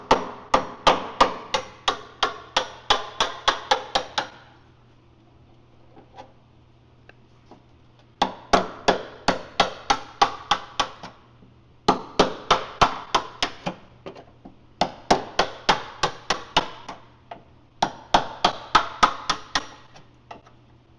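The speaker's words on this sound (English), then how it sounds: "Well, I just use an old wood chisel." Sharp metallic taps from an old wood chisel driven between layers of a damaged car's side panel, fired off in rapid bursts of about ten strikes with short pauses between, close up and loud, no talk.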